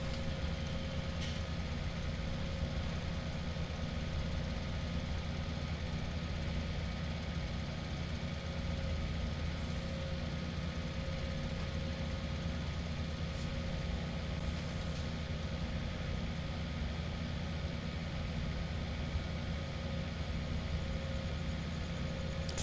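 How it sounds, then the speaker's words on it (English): A tractor engine idles in Farming Simulator 17, a steady low mechanical drone with a constant hum running unchanged throughout, moderately loud and without speech. "That whole engine is pretty slow."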